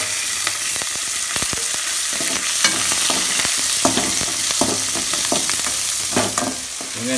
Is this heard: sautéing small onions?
yes